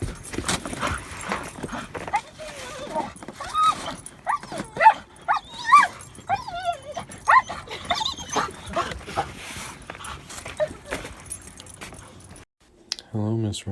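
A dog named Roxy whimpers and gives a few barks, close by and intermittent, mixed with jangling and other handling noises while people talk over it.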